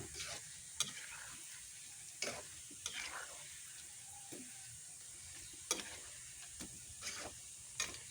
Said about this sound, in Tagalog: Ito po yung aking nilulutong banana pew.